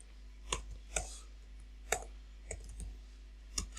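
A computer keyboard is typed on while coding in C. About seven sharp, isolated key clicks come over a steady low hum, fairly close and unhurried, with no speech.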